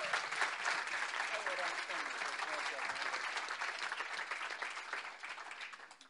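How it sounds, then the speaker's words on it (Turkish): Audience applause at a Turkish music concert, a dense, sustained wash of clapping from a large crowd filling the space, even and continuous before tapering off at the end. "Özellikle şefim maestromuz Hana, ona bir özel bir olarak alkış istiyorum."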